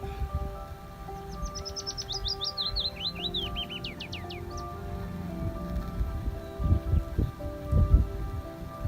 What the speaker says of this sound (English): We've got a mating bird in here somewhere, singing.